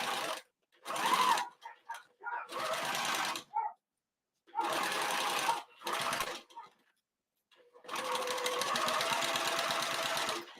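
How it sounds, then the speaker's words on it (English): A sewing machine stitches the side of a fabric pouch in several bursts separated by silent pauses, each run a steady close whirring hum, the last the longest. "lower your needle, and start stitching"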